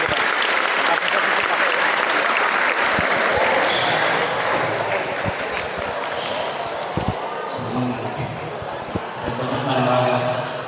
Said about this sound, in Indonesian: Tepuk tangan buat Iqbal Maulana.